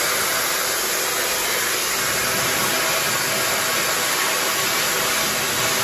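A hair dryer blows steadily on natural hair, a loud, constant close-up roar of rushing air that lasts the whole time with no breaks and no talking.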